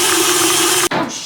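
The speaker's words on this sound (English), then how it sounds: "Now I'm just gonna throw it into the KitchenAid mixer." KitchenAid stand mixer with its steady motor whine, mixing sourdough discard cracker dough, loud and close, cutting off abruptly near the end.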